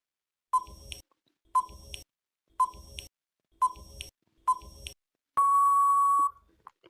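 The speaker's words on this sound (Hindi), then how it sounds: "तो चलिए टाइमर स्टार्ट करता हूं।" A quiz countdown timer beeps five times at one-second intervals, each a sharp electronic tone, then ends with a single long sustained beep.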